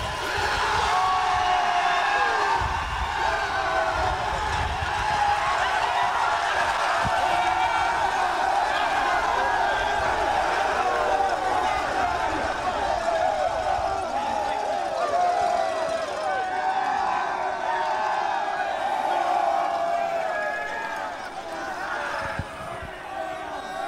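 A stadium crowd roars and cheers for the Saskatoon Hilltops, the 2023 Canadian Bowl champions, after their game against the Westshore Rebels. The dense, sustained noise from many voices holds for about twenty seconds, then eases off near the end.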